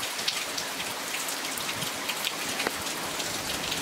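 Steady rain patters and drips on a hard surface at a motorhome, a dense, continuous hiss of droplets with occasional louder splats.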